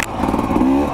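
A 2024 KTM 300 XC W dirt bike engine revs steadily and loudly, a brief burst of motor drone that holds a rising tone near the end.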